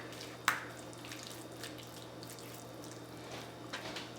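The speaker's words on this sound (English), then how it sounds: "Gotta wash my hands." Hands being washed under a running kitchen tap while cooking, a steady soft stream of water with a sharp splash near the start and faint clatter over a low hum.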